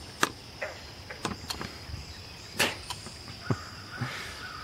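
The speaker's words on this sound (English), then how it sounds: "Gotta love the frogs." Frogs calling along a stream outdoors, with sharp, irregular clicks and croaks against a steady insect-like background hum, faint and spread out.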